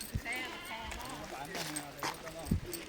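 A goat at a farm bleats repeatedly in short, wavering calls, close by and mixed under continuous speech from people nearby, with a few soft thumps of movement.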